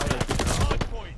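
Rapid automatic gunfire in a Call of Duty Vanguard ranked Hardpoint match: a loud, close burst of about ten quick shots in a fast rhythm that trails off into echo.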